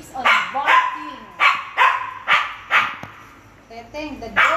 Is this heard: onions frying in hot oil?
no